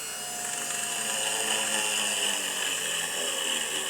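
Mini drill press running at full speed while drilling aluminum gives a steady, high-pitched whine with a rough, grinding edge, loud and close throughout.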